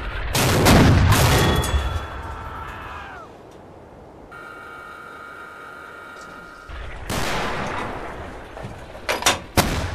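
Loud blasts and booming explosions, including a tank exploding in Red Orchestra, open and close the stretch, separated by a quieter gap carrying a steady electronic tone, like game combat sounds.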